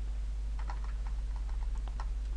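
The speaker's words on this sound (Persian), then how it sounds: "یه علامت سوال رو دوباره تایپ میکنم" A computer keyboard being typed on, a question mark entered while working at a command prompt: a handful of light, quick key clicks over a steady low hum, with no talking.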